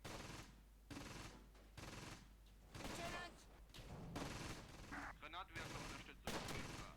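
Crossfire in the Close Combat: Gateway to Caen war game, with repeated bursts of rifle and machine-gun fire in rapid volleys, some sharp and close, others in sustained rattling strings.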